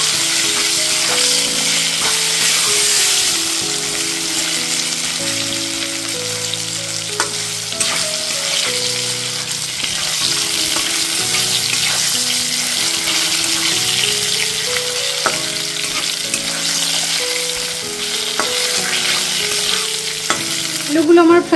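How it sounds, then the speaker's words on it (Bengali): Potatoes fry in hot oil with a continuous loud sizzle and crackle, close and steady, broken by occasional stirring scrapes and clinks, with no talking. "আলুটাও ফ্রাই করে নেবো"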